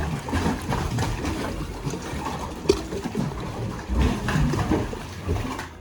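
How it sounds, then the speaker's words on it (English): Waves surge and slosh through water-carved caves in red rock along a Great Lakes shore, a continuous churning wash with hollow rushing swells and a few sharp splashes, with no voices. "listening to the waves crashing through the many water-created caves"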